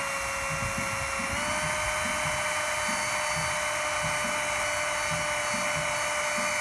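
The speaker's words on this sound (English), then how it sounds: "Let the drill do the work." A power drill whirs steadily, boring holes through cladding during a repair of a squirrel hole, with a continuous high motor whine and rhythmic low thuds from the bit, close and loud throughout.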